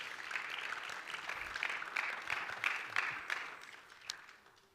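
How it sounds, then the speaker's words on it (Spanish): Congregation in a Spanish-speaking evangelical church service clapping together, a steady dense wash of handclaps sustained throughout, moderately loud and fading slightly at the end. "Démosle palmas al Señor."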